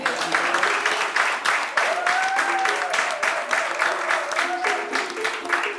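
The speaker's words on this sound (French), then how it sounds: "On peut applaudir." Steady applause from an audience at a gathering introducing entrepreneurship candidates, dense and continuous throughout with faint voices mixed beneath the clapping.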